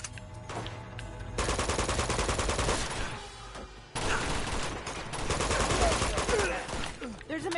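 Bursts of machine gun fire crackle in the video game Uncharted 2, two long rapid volleys separated by a brief lull, loud and close, with a voice briefly heard.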